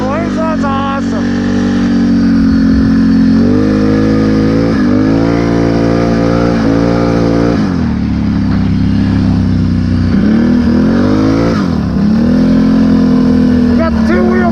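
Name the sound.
Can-Am off-road vehicle engine revving while riding in snow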